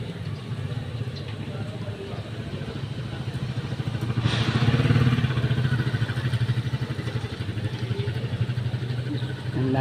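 A motor tricycle engine idles and runs steadily near a terminal, a constant low rumble that swells louder for a few seconds midway before settling back.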